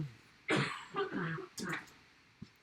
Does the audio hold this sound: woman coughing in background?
yes